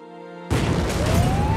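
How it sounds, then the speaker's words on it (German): A sudden loud blast cuts in after a quiet tonal hum, followed by a sustained roaring rumble with crackling debris. "Es gab eine Explosion, fahren Sie weiter."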